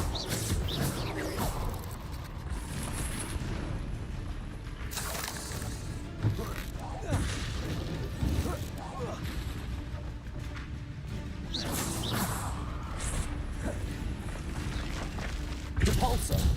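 Confringo blasting spells exploding in the Hogwarts Legacy video game: several loud, broadband booms and crashes at irregular intervals over a dense, busy backdrop of combat effects.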